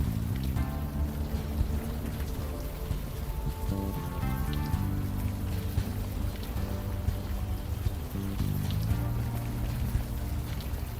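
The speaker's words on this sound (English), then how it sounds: "Still raining." Steady rain from the video game Unavowed, a dense continuous patter on surfaces that stays loud and even from start to finish, with no talk over it.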